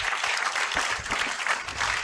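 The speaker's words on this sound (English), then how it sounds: "let's give them a round of applause" An audience at a university awards ceremony breaks into steady, dense applause, many hands clapping together at an even level throughout with no voices on top.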